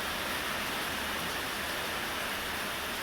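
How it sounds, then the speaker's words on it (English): Steady rain pours down outside a back porch, a dense continuous hiss of falling water that stays loud and even throughout, with no voices. "I'm just sitting there watching the water, watching the rain."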